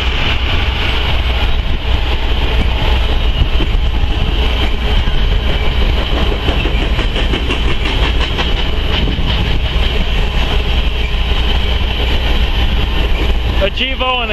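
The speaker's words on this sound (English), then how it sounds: "Train." A freight train with GEVO and Dash 9 locomotives passes close by, a loud, sustained rumble with clickety-clack of the rail cars running throughout and a brief squeal near the end.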